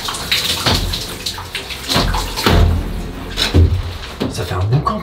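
Water runs from a shower in a cheap, low-rated motel, a steady rushing spray with a couple of heavier surges, fairly close and loud, with voice-like sounds mixed in.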